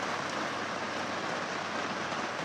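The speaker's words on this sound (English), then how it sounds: "Now it's raining" Steady rain pours down on a sailboat at sea, a dense, even hiss that fills the whole stretch without a break.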